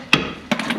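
Two sharp metallic hammer blows on a part of a Volvo 940 Turbo, a single loud strike followed after a pause by a quicker pair of hits, close and clear with no talk.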